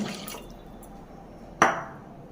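Milk is poured into a vessel while preparing panchamrutham, a soft steady liquid rush with one brief splash near the end, quiet and close.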